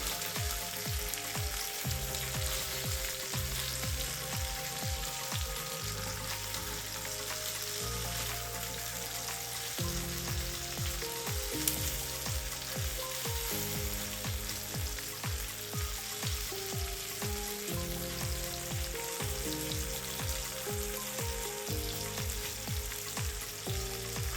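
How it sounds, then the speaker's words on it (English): Breakfast sausage links fry in a pan with a steady, even sizzle throughout, joined by a prominent tonal melody of background music. "I'm gonna fry that just a little bit because we want to control the temperature."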